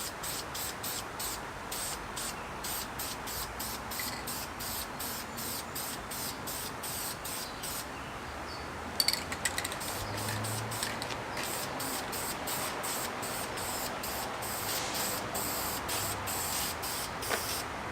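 Aerosol spray paint hisses in repeated short bursts while coating a metal probe shaft, the spurts close and fairly steady, with a brief clatter partway through.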